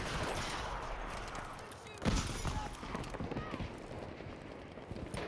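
A single Enfield rifle shot in the World War II shooter Battlefield V: one sharp crack midway, heard over ongoing battlefield ambience and a talking voice.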